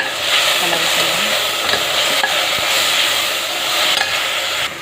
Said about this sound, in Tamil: ஸ்டவ் வந்து சிம்மில் வச்சு வதக்கணும்.